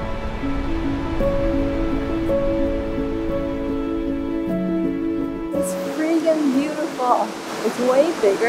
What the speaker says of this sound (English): it's really loud and beautiful. There's like multiple waterfalls